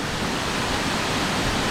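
The Cachoeira do Jaja waterfall near Morretes pours in a steady, dense rush of white water. It is loud and close, with no pauses or voices.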